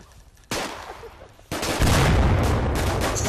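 Gunfire in the virtual reality shooter Onward: a loud burst erupts, then a heavier, sustained volley of rapid shots continues close by to the end.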